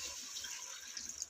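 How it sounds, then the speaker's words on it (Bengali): Water pours into a pot of fish curry with potatoes, a faint, steady rushing stream lasting a moment, with a few light splashes near the end. "এই জলটা ঢেলে দিলাম"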